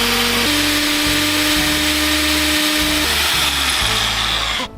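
A power drill bores into a wall to mount a solar-powered camera bracket, its motor whining steadily at close range with pitch shifts as the bit bites and the load changes, running nearly continuously and stopping abruptly at the end.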